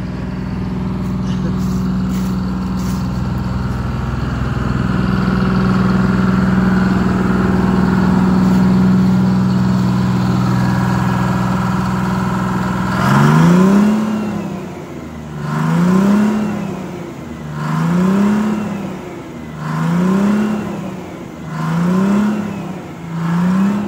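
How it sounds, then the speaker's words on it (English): A Detroit Diesel inline 6-71 engine, smoky after a cold start, idles with a steady drone, then revs up and down about five times in a regular rhythm, loud and close. "I'm gonna go back there and have you rev it up a few times again."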